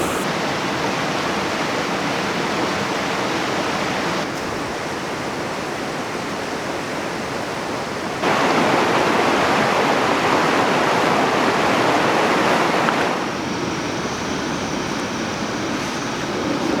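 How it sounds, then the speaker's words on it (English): An icy early-season mountain stream in Northern Nevada rushes in a steady, loud, continuous wash of water, its level shifting slightly over time, with no voices. "A mountain stream."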